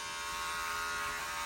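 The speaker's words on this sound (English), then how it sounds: "Here I change the clipper to size 1." Electric hair clipper set to a size 1 guard cutting a woman's hair at home, a steady close buzzing drone that holds at an even level without a break.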